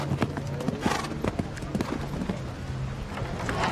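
Horse hooves clip-clopping in a quick rhythm during a show jumping grand prix jump-off at an outdoor arena, repeated thuds over steady crowd and ambient noise, with faint commentary in the background.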